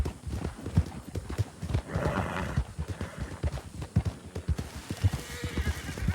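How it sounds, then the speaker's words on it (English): A Kentucky Saddler horse in the game Red Dead Redemption II, hooves clip-clopping in an uneven rhythm close by, with a snorting whinny partway through, loud and alone. "At least I can sell this horse for a little bit of extra cash, I guess."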